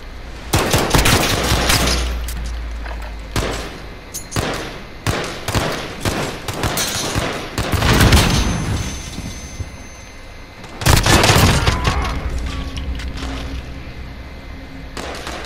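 Gunfire in a Call of Duty Modern Warfare gunfight, with loud bursts of rapid shots and sharp single cracks coming in clusters with short gaps, close and harsh, then a heavy volley near the end.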